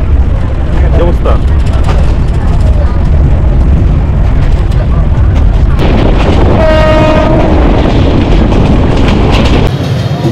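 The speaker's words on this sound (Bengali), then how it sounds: "ট্রেন জার্নিটা বাস জার্নি থেকে যথেষ্ট আরামদায়ক" A passenger train runs on a railway journey toward Chittagong, Bangladesh, with a loud, steady rumble and rattle of the carriages close by and a brief horn-like tone partway through.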